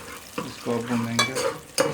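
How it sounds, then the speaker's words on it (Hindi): Whole ginger and garlic fry in a pan, giving a steady, close sizzle with a few brief stirring scrapes and clinks over roughly two seconds. "इसको अब भूनेंगे।"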